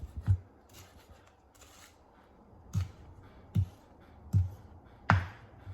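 Knife chopping through green onions on a cutting board, five separate quiet thunks spaced unevenly, each a short close knock with a faint crunch, and soft rustling in between.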